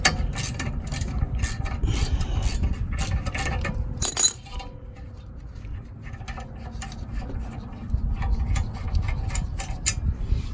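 An 18 mm ratcheting wrench works loose a rear brake caliper bolt on a VW Mk5, its pawl clicking in quick, close mechanical ticks with a short pause midway before the ratcheting resumes.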